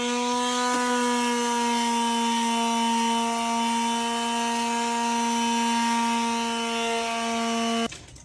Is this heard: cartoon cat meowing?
no